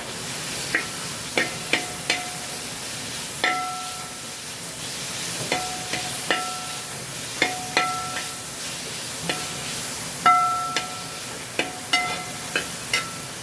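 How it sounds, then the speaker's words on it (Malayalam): Banana and dates sautéing in ghee in a pan, with a steady soft sizzle under repeated short clinks of a spoon against the pan, spaced irregularly throughout, with no talking. "ഏത്തപ്പഴവും ഈത്തച്ചക്കും കൂടെ നെയ്യിൽ വഴറ്റുമ്പോൾ"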